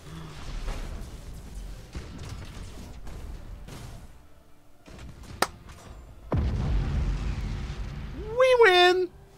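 Melter bomb explosions in the space battle game Battlefleet Gothic Armada II: a steady rumbling barrage with scattered sharp cracks, swelling into a louder, sustained blast near the end, topped by a brief rising whine.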